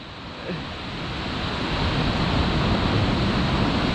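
Ocean surf breaks steadily at La Jolla Shores, a continuous loud wash of waves with wind rumble, rising slightly after the first second and holding as a dense roar with no voices.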